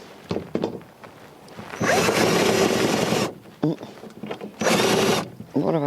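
A power drill drives self-tapping screws into metal hoophouse tubing in two loud, sustained whirring bursts of about a second each, separated by quieter handling noises.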